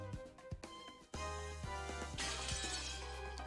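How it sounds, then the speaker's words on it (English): Glass shatters in a sudden burst from a visual novel mystery game, the crash giving way to a sustained bright tinkle of falling shards over a steady background music bed. "Another glass break."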